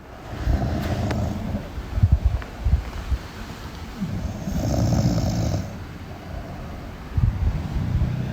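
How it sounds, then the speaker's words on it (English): A recording of snoring, from either a person or a bulldog, plays as rough, uneven rumbling snorts that rise and fall over several breaths, fairly close, with wind-like noise underneath and no talking. "Is that someone sleeping? It's snoring."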